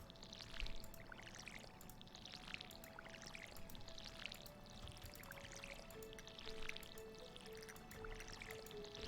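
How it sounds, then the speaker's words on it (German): Watering crops in a video game produces quiet, repeated pouring and splashing water sounds in a steady rhythm, soft and even, with a faint tonal game background and no speech. "das müssen wir noch gießen"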